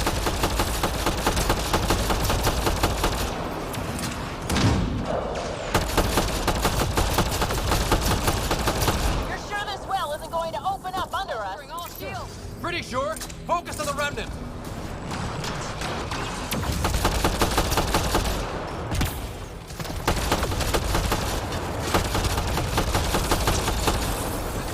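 An allied turret fires in the sci-fi shooter Mass Effect Andromeda, keeping up dense, steady automatic gunfire for most of the stretch, with a short lull midway and other battle noise and voices talking over it.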